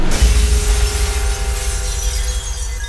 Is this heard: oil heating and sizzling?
no